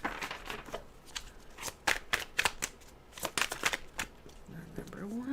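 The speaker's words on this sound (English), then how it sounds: "Let me close this, shuffle this" Tarot cards are shuffled by hand, a rapid series of crisp riffling snaps and soft slaps in uneven bursts, recorded up close with quiet room background and a brief voice at the end.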